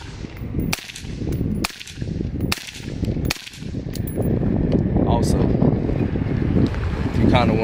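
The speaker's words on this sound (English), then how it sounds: "About to put some rounds down range." Gunfire at an outdoor shooting range, several sharp shots spaced about a second apart, then steady wind and handling noise with voices in the background.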